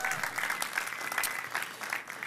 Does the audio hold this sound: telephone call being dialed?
no